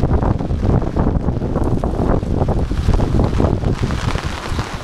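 Strong, roaring wind from a sudden monsoon thunderstorm in Maharashtra, buffeting the microphone with a dense, continuous rumble for the whole stretch.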